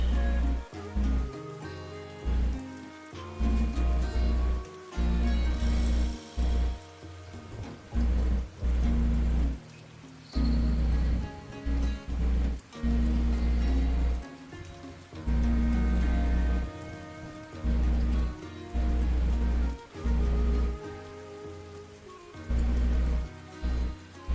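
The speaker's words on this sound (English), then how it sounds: "I like that this has like a rain sound in it." Steady rain patter fills the background continuously, loud and close, joined by repeated deep, pulsing thuds throughout, with no one speaking.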